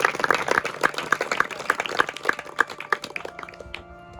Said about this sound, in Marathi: एकदा जोरदार टाळ्या होऊन जाऊ.